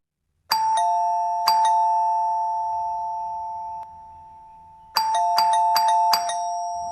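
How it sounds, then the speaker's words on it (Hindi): A two-tone doorbell chime rings out clearly twice, then after a pause rings in a quicker burst of four, each ding-dong ringing on with a long decay, with faint low rumbling underneath. "उसकी ननद इतनी देर से दरवाजे पर घंटी बजा रही थी"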